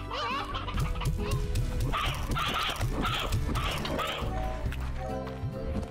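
Chickens and roosters in the video game Slime Rancher cluck and squawk in a dense overlapping chorus, loud and continuous, mixed with other game sounds.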